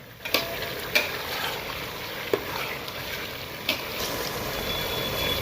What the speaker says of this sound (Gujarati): એ થોડો ગેસ ફાસ્ટ રાખી અને બટાકાને ફેરવતું રહેવાનું